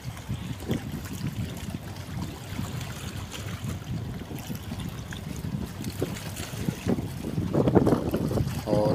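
A large ship leaves port after unloading, giving a steady low rumble of engine and water churn with wind buffeting the microphone, growing slightly louder toward the end.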